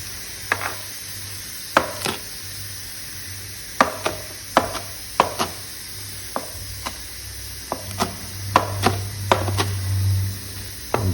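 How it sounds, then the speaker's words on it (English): Herbs and stems are chopped on a cutting board with a knife in sharp, irregular taps, some spaced apart and some in quick clusters, close and clear over a low steady hum. "gonna give it a little bit of chopping"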